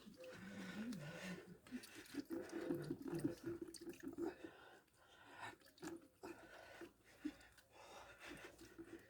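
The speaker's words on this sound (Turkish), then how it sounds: "suyu boşaltma devam ediyoruz. Bak şunun de çok pis su çıkıyor." Dirty acidic water is drained from a car battery, a faint trickling and splashing of liquid heard alongside quiet talking.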